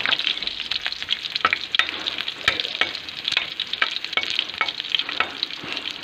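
Ginger, garlic and onion crackle in hot oil with a bright, busy sizzle, punctuated by sharp spatula taps and scrapes against the pan, close and steady with no talking.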